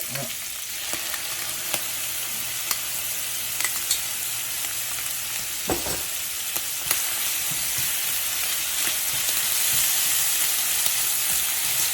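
Sambal chili paste frying in a pan for Indonesian nasi goreng, with a constant loud, close sizzle and hiss broken by occasional small clicks and taps from stirring.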